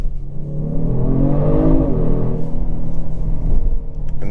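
A 2022 Genesis G70 3.3T Prestige AWD engine with sound enhancement set to strong revs up in first gear, its loud, steady rumble climbing in pitch and then easing back, heard from inside the cabin with no talking.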